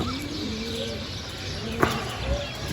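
Pigeons coo softly on a rooftop in a quiet outdoor setting, a low, steady murmuring call with a faint brief rustle partway through.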